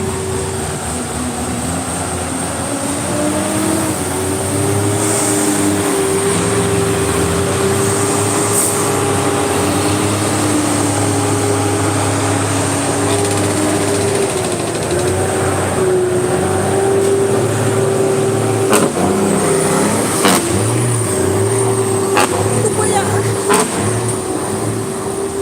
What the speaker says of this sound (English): Hold on, the traffic noise.